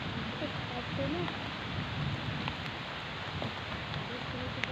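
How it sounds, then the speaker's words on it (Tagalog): Heavy rain falls outdoors as a steady, broad hiss with some wind noise on the microphone, continuous and fairly quiet without talking. "Kasi po ang lakas ng ulan."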